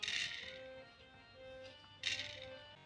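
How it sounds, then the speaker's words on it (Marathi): Peanuts are tipped into a hot pan for roasting on a wood-fired stove, giving two sharp rattling bursts of nuts hitting metal about two seconds apart. Quieter faint tones sound in between, and no one speaks. "भांडं गरम झालेलं आहे, आता शेंगदाणे टाकूया आपण."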